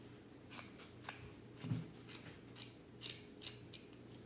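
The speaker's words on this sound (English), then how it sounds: "I took this little deal of burlap, and all I'm going to do is I'm going to cut little strips." Scissors snip through burlap strips in a quiet room, making a series of crisp, close, evenly spaced cuts with short pauses between them.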